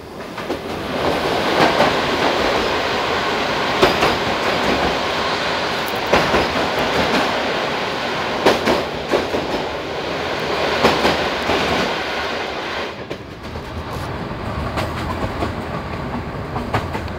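A CFR IRN 1822 sleeper train runs through a tunnel in the Jiu gorge, a dense, steady rumbling roar with rhythmic wheel clacks, heard from inside the carriage and continuous throughout.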